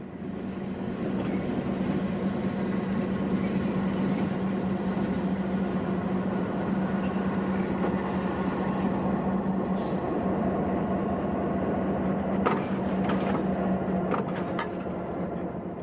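Diesel locomotive train at Jerusalem station, a steady rumbling hum of the idling engine with rail noise, faint squeals and clanks near the end.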